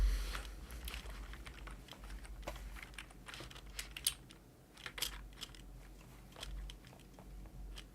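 Quiet, irregular tapping on a large computer keyboard with wide keys, scattered clicks in uneven bursts, close but faint over a low hum.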